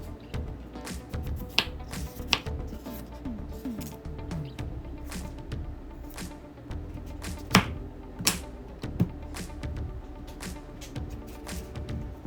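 A knife cuts peeled, washed yam into small pieces, making soft irregular taps and thuds on a board, a few sharper knocks standing out over quiet background noise, with no talking.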